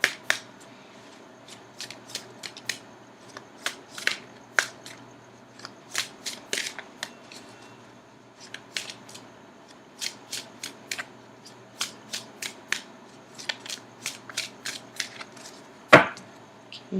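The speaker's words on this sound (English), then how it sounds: "I'm going to cut the cards." Tarot cards being shuffled close up, a long series of soft slapping and riffling bursts with short pauses between them, ending in one sharper, louder snap as the deck is cut.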